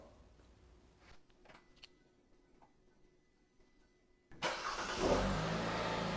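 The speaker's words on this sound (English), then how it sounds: "And here you go, the car started." A 2016 Hyundai Tucson engine cranks and catches by remote start after a quiet stretch, then settles into a steady, fairly loud idle close by.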